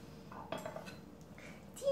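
A spoon scrapes and clinks around a dish of Italian meatball stew seasoned with salt, white pepper and spices, giving a few close, soft stirring knocks and scrapes with a brighter clink at the end.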